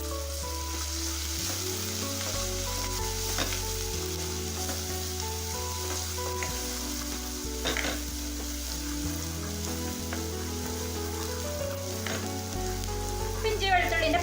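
Ginger, garlic and curry leaves sautéing in a pan for a bitter gourd curry, a steady, close sizzle with occasional stirring scrapes, running continuously with no talk.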